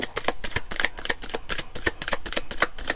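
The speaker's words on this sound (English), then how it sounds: "One more shuffle." A deck of self-care cards is shuffled by hand close up, giving a quick run of crisp, rhythmic flicking riffles that carry on steadily throughout.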